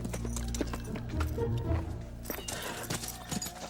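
Horse hooves clop in an uneven rhythm as a horse whinnies briefly, with rustling movement and faint background noise around them.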